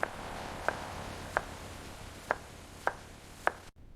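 Six sharp knife chops on vegetables land at uneven intervals, crisp and close against a quiet room, with no talking.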